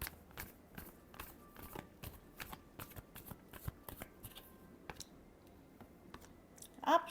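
Tarot cards are shuffled in quick, soft, crisp flicks, riffling repeatedly at close range and fairly quietly, with a brief louder rustle at the very end.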